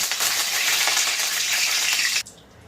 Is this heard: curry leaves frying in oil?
yes